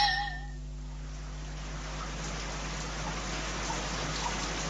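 Steady rain falling on a wet cobbled street, a soft continuous patter of drops, fairly quiet, alone under a faint low hum, after a brief fading tone at the start.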